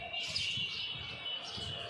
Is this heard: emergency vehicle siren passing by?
no